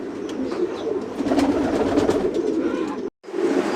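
Pigeons, including Lahori birds, coo steadily at a pigeon farm, their low throaty calls overlapping in a continuous murmur of several birds nearby, broken by a brief cut near the end.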